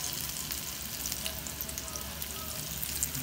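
Onions fry in a pan with a quiet, continuous sizzle and faint crackles, with no voice over it.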